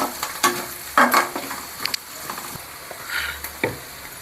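Onions fry in a pan with turmeric for Tamil kara kuzhambu, sizzling close by with intermittent spatula stirs and scrapes against the pan, uneven and busy.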